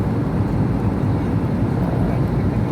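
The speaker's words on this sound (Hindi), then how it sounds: "और ये हम विमान में हैं" Steady low engine drone and rushing air fill an airliner cabin in flight between Bangalore and Patna, a constant dense roar with no voices.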